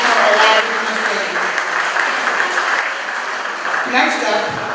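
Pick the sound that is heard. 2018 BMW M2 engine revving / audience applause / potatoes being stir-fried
audience applause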